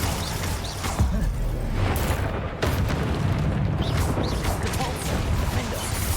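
Confringo blasting spell in Hogwarts Legacy combat, rumbling explosive bursts and crashes layered over a continuous loud battle din, with sharp impacts near one and two and a half seconds.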